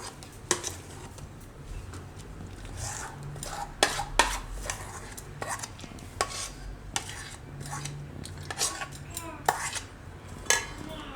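A spoon clinking and scraping against a bowl while stirring garlic uttapam batter with spices, irregular sharp taps and scrapes repeating across several seconds, close and fairly quiet.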